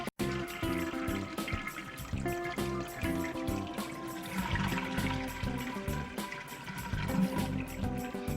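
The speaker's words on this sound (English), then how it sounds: "Flush the toilet to empty the tank." A household toilet flushes after its wall water supply is shut off, emptying the tank: a steady, fairly loud rush of water that keeps running for several seconds with no voices.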